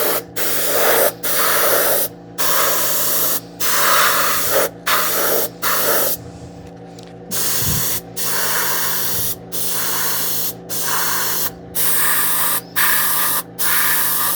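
Airbrush sprays silver-to-gunmetal paint onto a 3D-printed Doctor Doom armor piece in repeated close, loud bursts of steady hiss, each a second or so long and separated by short gaps, over a low background hum.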